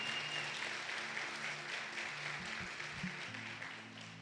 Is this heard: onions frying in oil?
no